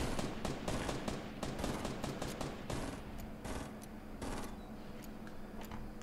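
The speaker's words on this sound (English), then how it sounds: "Oh my God, guy shooting at me." Rapid bursts of gunfire from a Fortnite Battle Royale duo match crack out repeatedly, dense at first and then more scattered, over a steady low game rumble at moderate loudness.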